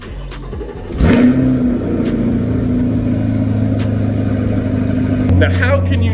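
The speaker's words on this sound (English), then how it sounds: "how can you not love the sound of that beautiful V8 in the new C8 Corvette?" A C8 Corvette V8 with Z51 performance exhaust cold-starts with a sharp loud flare of revs, then settles into a steady, deep, throbbing fast idle, with a brief blip near the end.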